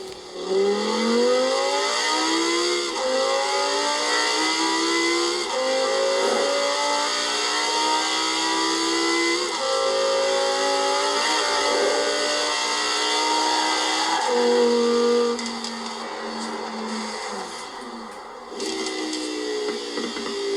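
A high-revving V10 sports car engine in Forza Horizon 4 screams up through the gears to 9000 rpm and drops between shifts, loud and sustained, with a slightly synthetic game-like tone.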